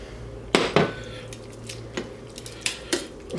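A utensil stirs seafood into a sauce in a pan, making several sharp clacks and scrapes over a low background hum, close and fairly loud.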